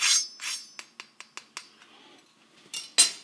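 A crispy low-carb keto taquito, rolled in a low-carb tortilla, gives several sharp, close crunches, with lighter clicking taps between them and two louder crunches at the end; no one talks.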